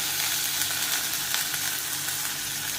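Mustard seeds sizzle and crackle in hot melted butter in a pan, a dense, constant spitting hiss heard close up with no voices.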